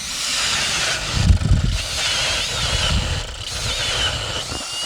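A battery-powered ice auger grinds loudly through ice, a steady whirring drone with rough churning bursts, heard up close without talk.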